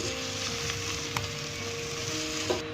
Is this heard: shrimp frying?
yes